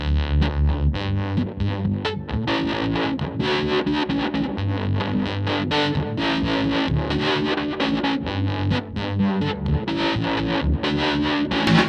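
Heavily fuzzed electric guitar plays choppy, percussive riffs, thick and distorted, loud and continuous throughout.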